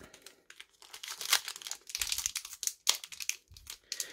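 A Pokémon card pack wrapper, from a Pachyradjah V box set, is torn open and crinkled up close, with a run of sharp plastic rips and crackles over about four seconds.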